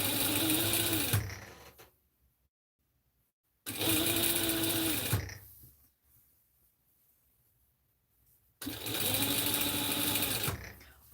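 A home sewing machine stitching in three steady motorized bursts, each a couple of seconds long, separated by quiet pauses, loud and close, with no talk.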